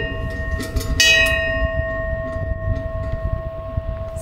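Bell struck at about one second, a fixed bell that does not swing, ringing with a bright metallic attack and a long steady sustained tone over background rumble.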